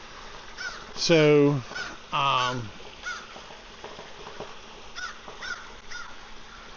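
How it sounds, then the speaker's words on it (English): Crows caw twice in quick succession, loud and close, near a boat under repair, followed by fainter calls and a brief spoken word against outdoor background noise. "we got some crazy birds around here"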